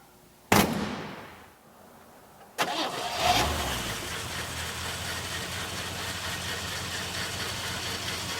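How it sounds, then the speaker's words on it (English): A car engine with a clean, black-painted block fires up with a sharp burst, falls quiet, then catches on a second start and settles into a steady, even run with a faint belt whine underneath. "I can hear a fan belt in there a little bit. The engine sounds great."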